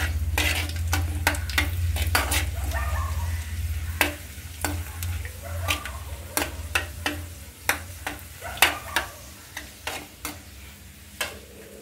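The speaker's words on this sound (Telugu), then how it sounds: "పల్లి చట్నీకి తాలింపు పెడుతున్నా" Tempering for peanut chutney sizzles steadily in a hot pan, with a low hum underneath and frequent sharp clinks of a spoon stirring against the metal.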